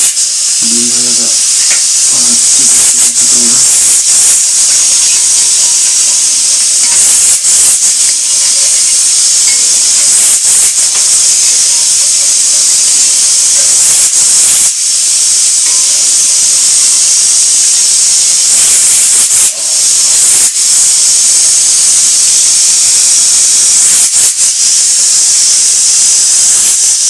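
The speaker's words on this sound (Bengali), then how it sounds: "এরকম ডিম ভাজা চলছে।" Eggs fry in a pan with a loud, continuous hissing sizzle that runs unbroken for the whole stretch. Brief clatters sound early on.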